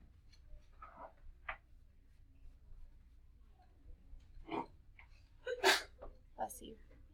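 A person sneezes in a quiet classroom, a short sharp burst near the end followed by a couple of smaller snorts, with faint scattered noises earlier.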